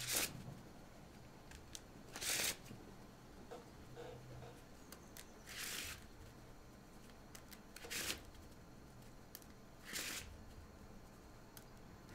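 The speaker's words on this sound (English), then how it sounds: "It's the deck I'm shuffling." An old casual deck of Magic cards being shuffled, with short crisp riffle bursts at regular intervals between quieter card handling, faint and close.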